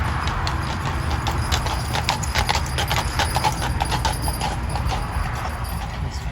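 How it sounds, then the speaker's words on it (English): Horses clip-clop steadily along a street in a funeral procession, a dense run of overlapping hoofbeats, fairly near and continuous beneath low background rumble. "See them horses?"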